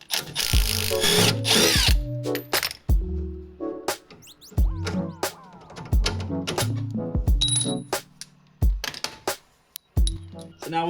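A power tool removes the through bolt from a Honda Civic's lower control arm, in short, loud bursts of whirring separated by pauses, with sharp metallic clinks and clatter between the runs.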